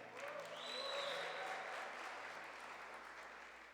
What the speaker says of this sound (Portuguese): Uma salva de palmas para essa banda maravilhosa.